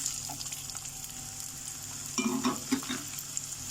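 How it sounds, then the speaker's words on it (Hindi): Chopped onion and green chili fry in hot oil with a soft, steady sizzle. Toward the end, a few louder stirring scrapes and spatters break through, all fairly quiet and without talk. "तो अब ओनियन को हमें फ्राई करना है, इसे गोल्डन कलर आने तक इसे फ्राई हम करते हैं"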